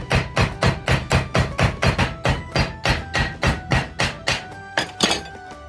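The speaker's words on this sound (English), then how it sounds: "switch it to the ball peen side of the hammer and start tapping." Steady series of about twenty sharp metallic taps from the ball peen side of a hammer on warped metal, evenly spaced and close, ringing briefly after each strike with no talking.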